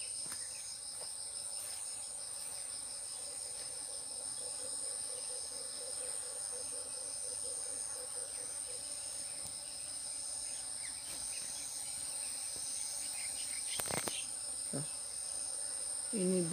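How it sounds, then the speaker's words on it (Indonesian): Honey bees buzz among flowering dragon fruit plants in a garden, a steady faint drone mixed with insect chirring and outdoor ambience, no talking. "Ini tawon madu ini kayaknya."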